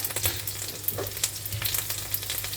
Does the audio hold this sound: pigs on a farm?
no